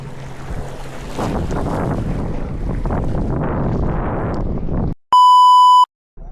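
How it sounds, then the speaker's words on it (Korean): Strong headwind buffets the microphone on a fishing boat at sea, loud steady gusting with water wash, cut off abruptly by a long electronic beep and brief silence near the end. "아유 맞바람이네 이 바람이 맞아?"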